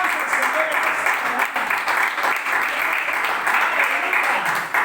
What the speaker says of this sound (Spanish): Si quiere pedirle un aplauso al Señor